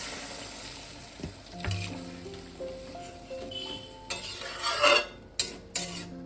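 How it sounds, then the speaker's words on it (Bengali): Water poured into a pan of fasha fish curry with potato and brinjal sets off a steady close sizzle, with spoon scraping and a few clinks against the pan. "এবার আমি জল দিয়ে দেবো।"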